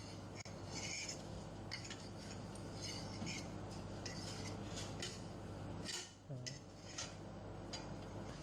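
Food being turned over in a hot pan with ghee: a steady frying hiss broken by several metallic scrapes and clinks of a utensil against the pan, with a brief lull near the middle.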